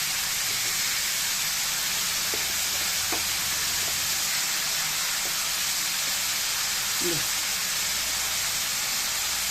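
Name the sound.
frying green tomatoes with turmeric and salt in a pan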